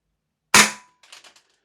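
A Tokyo Marui HK45 airsoft pistol loaded with 0.25 gram BBs fires one sharp, close crack, followed by a few faint rattling clicks.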